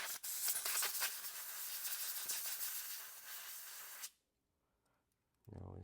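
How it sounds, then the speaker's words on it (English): An electronic contact cleaner sprays in a steady, close hiss for about four seconds while fixing a PS5 DualSense controller trigger, then cuts off into near silence before a low rumble starts. "It's an electronic contact cleaner. So what I want to do is I want to spray it"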